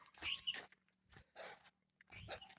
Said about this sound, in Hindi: अभी डॉगी है भाई जहाँ पे भुक भुक कर रहा है